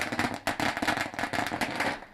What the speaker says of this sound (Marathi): अगदी फटाक्यांच्या आतिषबाजीने त्यांचं स्वागत इथे केलं जात आहे